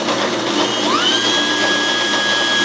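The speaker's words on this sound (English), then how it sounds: "spin up the Dremel" A Dremel rotary tool notching a Fender bell guitar knob, its loud motor whine rising in pitch as it spins up, then holding a steady high tone with background workshop hum.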